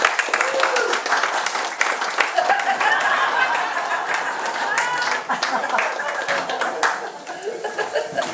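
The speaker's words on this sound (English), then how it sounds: "Please, could you give her a warm round of applause?" A comedy show audience claps steadily with light laughter mixed in. The applause is moderately loud and continuous and begins to thin out toward the end.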